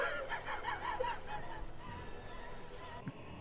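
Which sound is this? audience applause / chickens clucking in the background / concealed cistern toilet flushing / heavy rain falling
chickens clucking in the background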